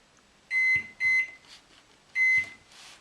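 Three sharp electronic beeps from a microwave oven keypad as start is pressed, two quick tones close together then a third after a pause, near and clear over a quiet kitchen.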